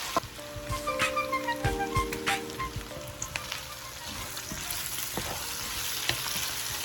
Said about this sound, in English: We're going to saute this for about 10 to 12 minutes or until the pancetta looks crispy and the vegetables are softened